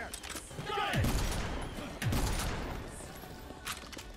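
Gunfire from the video game Earth Defense Force 5: two heavy shots with booming low tails, roughly a second apart, followed by scattered quieter weapon and mechanical noises at moderate level.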